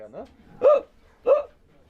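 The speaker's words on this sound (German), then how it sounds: "Nur der Schluckauf, der ist in beiden Sprachen gleich." A voice actor in a children's Low German radio play produces two sharp, evenly spaced hiccups after a brief vocal sound, close and clear against a quiet background.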